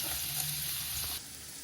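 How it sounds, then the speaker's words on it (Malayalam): Onion sautéing in hot oil with a piece of cinnamon and cumin seeds, a continuous soft sizzle and hiss up close, with a faint stir and a slight drop in level near the end. "നന്നായിട്ട് വഴറ്റിയെടുക്കണം."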